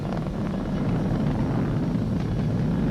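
SpaceX Falcon 9 rocket engines roar through launch ascent as a dense, steady, low rumble that fills the whole stretch without letting up.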